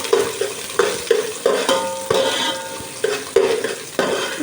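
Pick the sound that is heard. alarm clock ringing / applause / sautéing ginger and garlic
sautéing ginger and garlic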